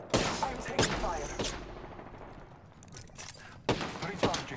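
Sharp bursts of gunfire in the battle royale game Apex Legends, several loud close volleys with gaps between them, a voice speaking between and over the shots.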